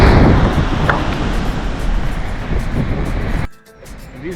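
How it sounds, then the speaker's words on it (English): Intense ocean waves roll and crash at a beach in Madeira, a loud continuous surf roar with wind buffeting, dropping off abruptly near the end. "And these waves are very intense here."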